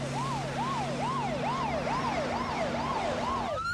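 An ambulance siren wails in a steady, repeating rising yelp, loud and close, with a low engine hum underneath.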